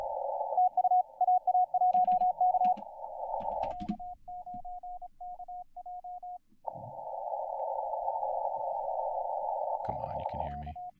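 Amateur radio calling CQ on the 160 m band, heard as a steady tone broken into Morse-like keyed beeps, then a long continuous tone, with a voice briefly speaking over it.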